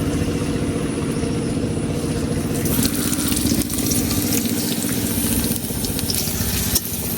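Chopped onion and garlic frying in oil in a wok give off a loud, steady hiss that runs unbroken and close up from start to finish.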